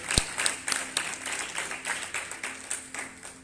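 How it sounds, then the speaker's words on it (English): Clapping at a church healing service, a few distinct rhythmic hand claps rising into scattered applause, fairly faint and a little distant, with irregular sharp hits over a soft background. "Somebody clap for Jesus"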